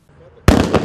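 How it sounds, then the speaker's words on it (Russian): Military training demonstration of a signal pistol cartridge and a blast packet simulating a fragmentation hand grenade, with a quiet lead-in and then a sudden very loud explosive burst that rings on to the end. "наглядно военным продемонстрировали силу, казалось бы, безопасного патрона от сигнального пистолета и взрыв пакета, который имитирует разрыв ручной осколочной гранаты"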